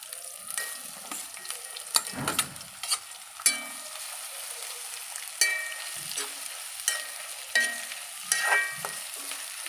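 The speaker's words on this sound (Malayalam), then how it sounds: "സവാള ഇട്ട് കൊടുക്കാം" Onions fry in hot coconut oil with a steady sizzle, punctuated by sharp scraping and clicking from a spoon stirring the pan.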